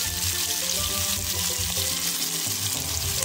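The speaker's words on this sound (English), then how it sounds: "It should be sauteing in hot oil." Chopped chili sizzling steadily in hot oil in a pan while a mixed vegetable curry is being made, a dense continuous crackle and hiss with no talking.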